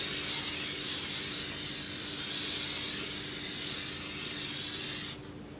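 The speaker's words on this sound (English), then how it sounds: "you have to use your pan spray and spray your 9x9" Cooking pan spray hissing steadily from an aerosol can while a 9x9 baking pan is greased for turtle brownies, a continuous close spray lasting several seconds before cutting off.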